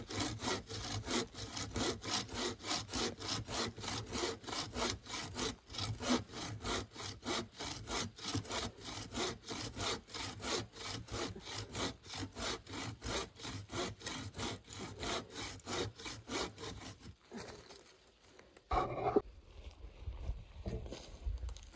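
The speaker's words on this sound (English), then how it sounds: "It's actually not that easy as it looks, especially with a handsaw." A handsaw cuts through the thick old wood of a shrub that is rotted outside but very sturdy inside, giving fast, regular rasping back-and-forth strokes, close and steady for about seventeen seconds, then a few scattered creaks and knocks.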